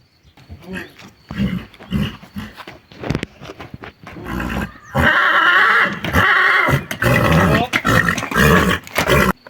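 A stallion neighs and roars loudly while covering a three-year-old mare, repeated harsh whinnies and snorting bursts in uneven bouts, close and forceful, with a long sustained squealing stretch in the second half.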